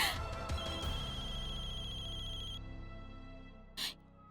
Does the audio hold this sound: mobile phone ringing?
yes